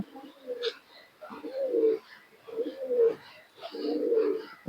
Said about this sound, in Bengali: তাই এ হচ্ছে সেই পায়রাগুলো এক জোড়া দেখুন